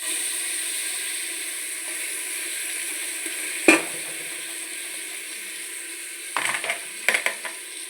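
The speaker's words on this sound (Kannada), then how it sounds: "ಅದು ಸಹ ಇದು ತುಪ್ಪದಲ್ಲಿ ಸ್ವಲ್ಪ ಫ್ರೈ ಆಗಬೇಕು" Ground masala frying in ghee while making egg biryani, a steady soft sizzle close by with a few louder stirring scrapes and clatters near the middle and end; no talking.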